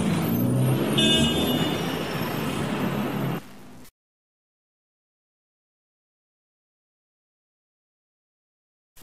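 Busy street traffic with trucks and cars rumbling close by, a steady dense roar that includes a hiss like an air brake before the noise cuts off abruptly into silence.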